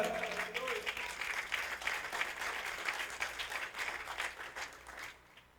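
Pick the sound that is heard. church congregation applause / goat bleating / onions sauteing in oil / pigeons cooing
church congregation applause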